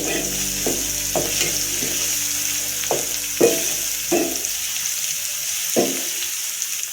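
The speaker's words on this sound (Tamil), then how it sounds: "சாம்பார் பொடி மிளகா பொடி போட்டு ஒரு நிமிஷம் வதக்கிக்கணும்" Raw banana pieces sautéing with turmeric, sambar powder and chili powder for vazhakkai poriyal, a steady close sizzle with several scraping stirs of a spoon against the pan, with no talking.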